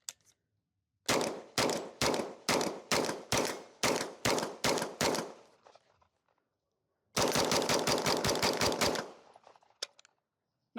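A CZ Scorpion Evo 3+ fires loud nearby shots: ten evenly spaced single rounds with ringing decay, a pause, then a fast string of about a dozen quick shots before the gun falls silent.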